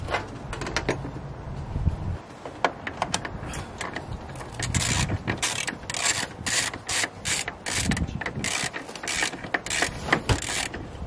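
A socket ratchet tightens brake booster bolts on a car, with repeated close clicking bursts of the pawl in quick runs separated by short pauses, crisp and fairly loud, no speech.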